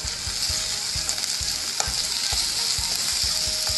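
Green chillies and curry leaves sizzling in a hot frying pan, a steady loud crackling hiss with soft periodic knocks of stirring, no voices.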